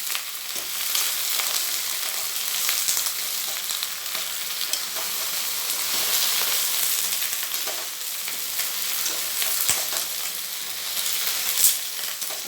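Eggplant sautéing in a pan for a mustard curry, a steady, dense crackling sizzle that stays close and fairly loud, with occasional stirring, and no voices.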